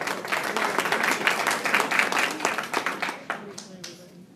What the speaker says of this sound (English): Let's give 10th and 11th grade math a round of applause.